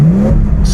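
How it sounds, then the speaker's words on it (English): A Bentley Continental GT engine rises in pitch as it revs, then settles into a steady rough idle hum, close and loud with no talking. "when you hit the throttle, I know it's idling a little rough"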